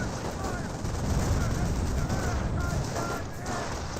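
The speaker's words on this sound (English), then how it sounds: "I hear the MG42 constantly firing." MG42 machine gun firing in Company of Heroes, continuous rattling gunfire with a steady, dense battle texture and a voice speaking over it.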